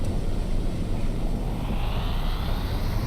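A continuous loud car engine drone with a rising whine in a racing game, steady throughout with no pauses.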